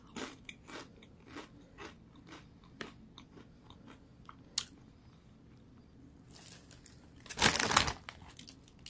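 Crisp crunching as Clancy's turkey stuffing flavored potato chips are bitten and chewed, irregular close bites and crackles, quiet between them, with a louder crinkling burst near the end.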